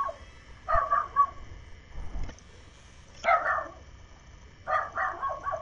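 A small dog barks and yips in short clustered bursts, three separate volleys spaced a few seconds apart, moderately close, with no one talking over them.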